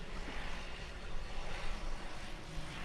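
A light propeller aircraft's engine drones steadily in level flight at about 10,000 feet, a constant muffled roar from inside the cabin, alone with no talk.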